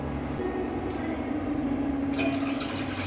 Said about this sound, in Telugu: ఇట్లా అడుగున వాటర్ పోసి